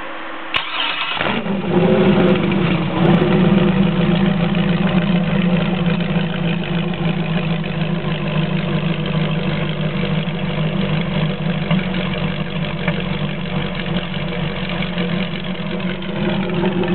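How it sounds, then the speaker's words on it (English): A 430-horsepower LS3 V8 engine from a 2009 Corvette cranks and fires on a test run, then settles into a steady, loud, rumbling idle that continues without change. "This is the 430 horsepower engine, and we're going to go ahead and get it fired off"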